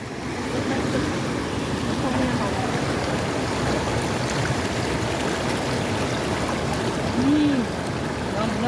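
A strong stream rushes past in a constant, loud, close-up roar of churning water, with faint voices occasionally audible beneath it.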